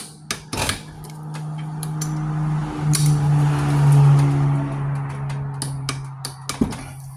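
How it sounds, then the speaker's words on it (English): Torque wrench clicking while tightening the power steering pump bolts on a 2007 Cadillac Escalade: a few sharp, close metallic clicks scattered over a steady low hum, with faint handling noise between them. "So let's just go ahead and torque this to 37 foot-pounds too."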